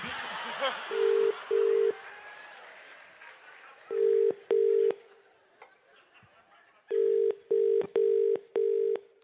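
A telephone line rings in a glitchy, remixed pattern on a talk radio show: clipped tone bursts in pairs and then a run of four, loud and close, after some crackly noise.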